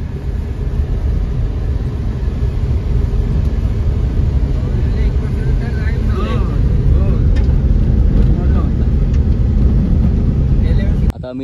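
A car drives through the Konkan countryside toward a Ganpati idol workshop, its steady engine and road rumble loud and close under talk before cutting off abruptly at the end.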